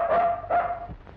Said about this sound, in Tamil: ஐயாவை கூப்பிட்டா நாய் குலைக்குது